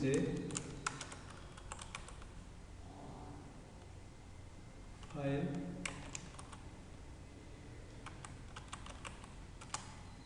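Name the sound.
typing Java code on a computer keyboard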